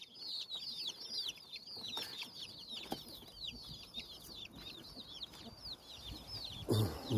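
A flock of guinea fowl on a farm in Yumbel, Chile, gives rapid, repeated high-pitched clucking calls in an overlapping chattering rhythm, fairly close, with a brief louder rustle near the end.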